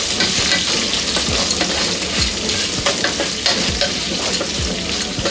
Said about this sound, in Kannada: ಈ ರೀತಿ ಒಗ್ಗರಣೆ ಪದಾರ್ಥ ಎಲ್ಲನೂ ಹಾಕಿ ಈರುಳ್ಳಿ ಫ್ರೈ ಆಗೋ ತನಕ ಇದನ್ನ ಚೆನ್ನಾಗಿ ಫ್ರೈ